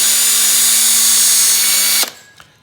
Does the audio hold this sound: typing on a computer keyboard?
no